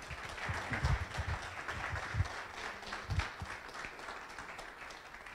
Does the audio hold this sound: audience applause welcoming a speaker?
yes